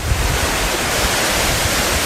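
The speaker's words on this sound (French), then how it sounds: "il fait un vent à décorner la bœuf" Strong wind roars steadily outdoors, a loud, unbroken rush with low buffeting gusts hitting the microphone and no voices.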